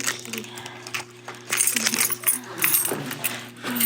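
A bunch of metal keys jangles and clinks in repeated close, bright bursts while someone searches for a key outdoors in the cold, with faint talk mixed in.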